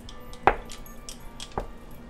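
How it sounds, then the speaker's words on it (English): A knife cutting slices off a block of Parmesan cheese on a board, two sharp close cuts about a second apart, the first louder, with quiet pauses and no talk. "I'm just going to take some slices off like this."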